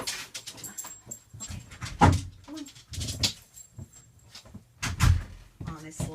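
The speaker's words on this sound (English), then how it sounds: "Oh, now the dog wants out." A dog whimpers and whines to be let outside, mixed with door and cupboard knocks, while a person talks over it indoors.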